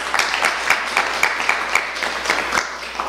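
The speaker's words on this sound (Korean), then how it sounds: "두 분께 박수 한번 쳐드리십시오" An audience at a policy forum on home care services claps together, a steady patter of applause with evenly spaced claps, fairly close in a hall.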